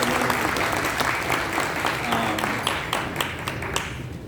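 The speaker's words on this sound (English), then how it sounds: "Let's give her a round of applause." An evening interfaith Iftar audience claps in sustained, dense applause that stays fairly even before gradually thinning out.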